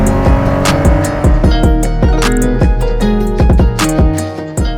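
A 1983 Alfa Romeo GTV6 sports car is driven on a track, its engine loud and close as it revs up and down repeatedly through gear changes. The harmonic engine note rises and falls steadily throughout, with no voices.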